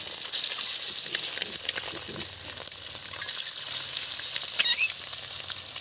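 Duck eggs fry in hot spiced oil in a pan, giving a loud, steady, close sizzle and crackle that carries on throughout with scattered popping spatter.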